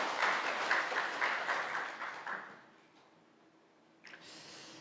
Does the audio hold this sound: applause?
yes